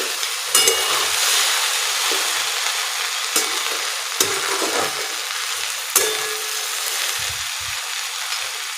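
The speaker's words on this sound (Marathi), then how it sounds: "आपण परत एकदा परतून घेऊया तुम्ही बघू शकता थोडीशी अशी लागलेली आहे भेंडी" Okra (bhendi) stir-fries in a pan with a steady, loud sizzle, broken every second or so by sharp scraping strokes of a spatula turning the pieces, close up and with no talk.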